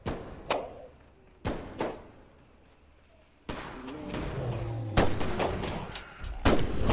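Video-game gunfire aimed at Bigfoot: several sharp broadband shots, loud and close, spaced a second or so apart, with a sustained rumbling background between bursts.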